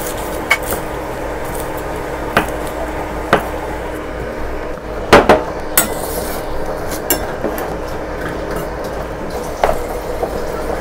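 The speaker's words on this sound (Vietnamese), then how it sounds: "Củ hành này mình cũng sắc luôn nha các bạn." Knife slicing shallots on a cutting board while preparing stir-fried water spinach with snails, a few sparse sharp taps scattered over a steady kitchen background hiss.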